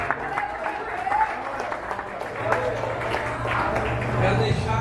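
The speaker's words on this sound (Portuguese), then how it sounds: "Podem tomar o teu assento e aplaudir e glorificar o nome de Jesus." A church congregation applauds during a Portuguese-language service, producing a dense, continuous wash of clapping with voices mixed in and a low hum underneath.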